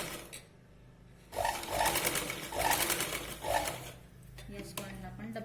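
A sewing machine stitches a katori blouse in several short whirring bursts of stitching, separated by quieter pauses. It is moderately loud and close, with faint background noises and no talk.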